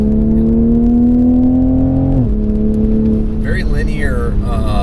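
A 2020 Toyota Supra accelerates on a track, its turbocharged engine a loud, steady rising drone with a brief pitch drop mid-pull, heard from inside the cabin while a person talks over it.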